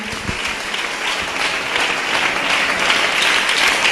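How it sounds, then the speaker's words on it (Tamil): A church congregation at a Tamil Christian service gives steady, dense applause that builds slightly and fills the room without a break. "ஒரு விசை உங்களுடைய கரங்களை நல்ல ஒரு கரகோஷம் கொடுத்து அந்த பரிசுத்த ஆவியானவருக்கே அந்த மகிமையை நாம் செலுத்துவோமா"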